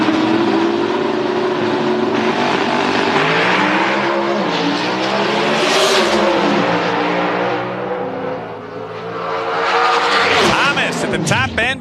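NHRA Winston Pro Stock drag race cars roar continuously at full throttle during a 1998 Route 66 Nationals run, loud and droning, with a rising engine whine near the end and commentary under the noise.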